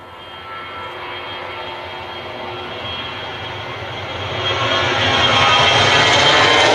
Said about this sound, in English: Easyjet A320